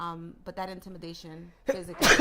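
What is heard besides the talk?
sneeze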